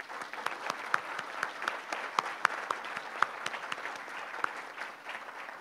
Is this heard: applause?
yes